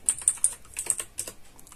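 Typing on a computer keyboard during a Linux setup, several distinct crisp key taps in an irregular rhythm, close and fairly quiet.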